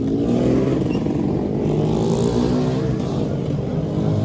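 Dense weekend-night traffic jam with cars and motorcycles, a continuous loud rumble of idling and revving engines close by with no pauses.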